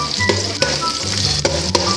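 Garlic frying in hot oil for a Filipino sotanghon dish, a steady close sizzle with occasional stirring scrapes and small pops, no voices.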